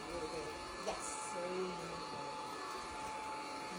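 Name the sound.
vacuum cleaner running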